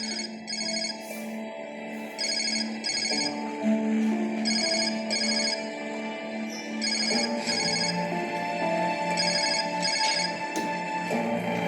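A phone rings with a repeating electronic ringtone, bursts of bright chiming tones in a regular pattern that keep going for several cycles, loud and close with music-like notes in the background.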